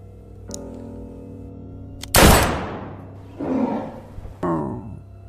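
A hunter's gun fires once at a were-tiger in the forest: a single loud, close blast with a long echoing decay, followed by two shorter growling, roar-like bursts. No voices are heard.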